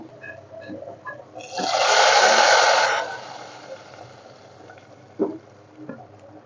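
Garlic and onion tempering hits a pot of mixed vegetable curry with a loud hissing sizzle that bursts in suddenly, holds for about a second and a half, then fades under faint kitchen clatter.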